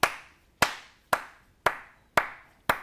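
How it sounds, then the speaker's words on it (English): Six sharp, separate hand claps at a slow, even pace, about half a second apart, each ringing out briefly in a convention booth at Sideshow New York Comic Con. "Slow clap."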